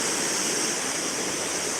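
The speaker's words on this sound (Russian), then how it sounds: "Течет вовсю, течет река." Steady rushing water from a full river, the Volga, flowing hard, a broad unbroken roar with no pauses and no voices.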